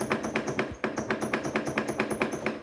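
Repeated metallic knocking from a rocking engine shaking its spring-connected exhaust, a steady rapid rhythm of sharp taps at close range with no talk.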